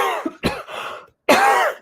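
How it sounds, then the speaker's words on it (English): A person gives a close, loud cough in a couple of harsh bursts, then a longer raspy cough after a short silence. "Excuse my cough, please."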